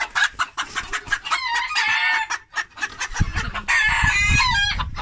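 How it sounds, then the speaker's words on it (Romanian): A rooster crows loudly and close by, twice in long strained calls, between rapid clucks and cackles from the same bird, with no voices. "Cocoșul ăsta."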